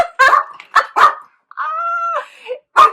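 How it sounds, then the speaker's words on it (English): Dogs bark in sharp, close bursts, several quick yips and barks followed by a drawn-out whine, then one more bark, loud in a quiet indoor room. "Crazy dogs."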